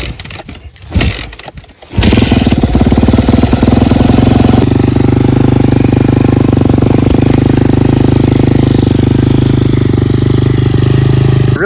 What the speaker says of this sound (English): I'm going to start the bike up, warm it up a little bit